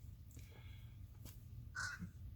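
A single crow caws once in the distance, faint and brief, against a quiet outdoor background with a low rumble.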